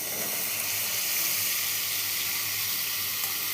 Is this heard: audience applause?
no